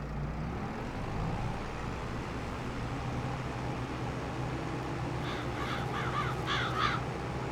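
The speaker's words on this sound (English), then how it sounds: "Yeah, crows. Get off my feet." Crows cawing in the farming video game Farming Simulator 22 over a steady low ambient rumble, a few repeated caws in the latter half, fairly clear and not far off.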